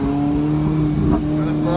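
Ferrari 458 engine droning loudly and steadily up close, a strong sustained tone with a slight rise in revs near the middle, and a voice talking over it.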